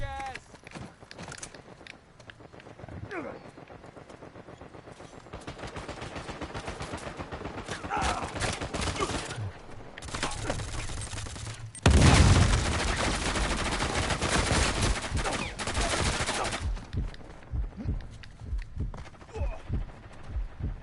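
Gunfire from an M14 rifle in the video game Uncharted, repeated shots and bursts of fire mixed with footsteps and game effects, with a louder stretch of action in the middle.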